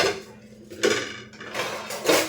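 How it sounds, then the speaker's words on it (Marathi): Metal spoons and forks clink and rattle against one another as someone rummages through kitchen utensils and dishes, with close, uneven bursts of clattering. "साधे चमचे सापडेना झालेत त्या भांड्यांमध्ये भरपूर आहेत शोधूया"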